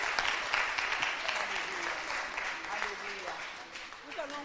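A congregation claps during a church gathering, a steady wash of hands under singing or voices that rise and fall throughout.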